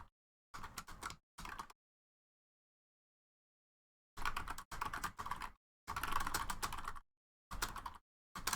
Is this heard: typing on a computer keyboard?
yes